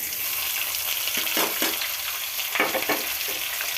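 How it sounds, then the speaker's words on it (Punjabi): Sliced onions and green chillies fry in a hot pan with a steady broad sizzle, broken by a few louder bursts of stirring and crackle, close and continuous with no talk. "ਆਪਾਂ ਇਹਨੂੰ ਪਿਆਜ਼ ਨੂੰ ਤੇ ਹਰੀਆਂ ਮਿਰਚਾਂ ਨੂੰ ਉਦੋਂ ਤੱਕ ਭੁੰਨਾਂਗੇ"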